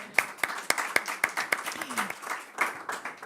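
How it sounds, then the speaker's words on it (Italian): A small audience at a grape festival in Vo' claps a short, sparse round of applause, distinct individual hand claps in a loose rhythm for a few seconds, fairly faint. "Io le farei veramente un applauso per questo"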